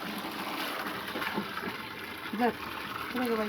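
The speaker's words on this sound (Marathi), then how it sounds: "पाणी काय आता भरपूर आलंय तळ्याला." Water gushes from a pipe into a farm pond as a faint, continuous rushing wash. Voices talk briefly over it.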